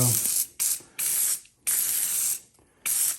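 PB Blaster penetrating oil sprayed from an aerosol can onto rusty axle nuts during a Dana 44 teardown, four close, loud hissing bursts of roughly half a second to a second each, separated by short pauses.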